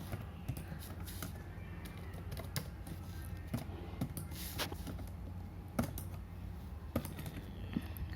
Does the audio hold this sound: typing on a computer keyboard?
yes